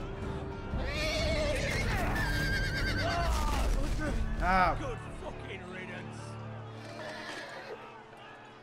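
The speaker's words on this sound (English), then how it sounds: "Crushed by a horse." A horse neighs and whinnies in a Game of Thrones video game, loud and close with a descending whinny, mixed with hoof clatter and music while someone talks over it.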